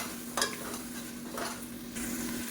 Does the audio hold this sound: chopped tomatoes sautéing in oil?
yes